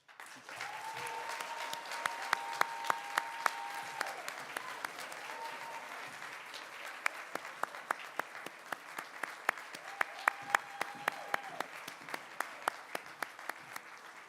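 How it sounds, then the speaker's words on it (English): A large audience applauds at the CONvergence 2022 convention closing ceremony, a long, even wash of distant clapping with sharp individual claps popping out, plus a few brief whistles and cheers in the mix. "So if you want to applaud for the community"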